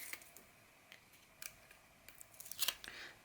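Backing is peeled off score tape while a handmade album is assembled, giving a few faint crackling rips and light ticks with short pauses between them.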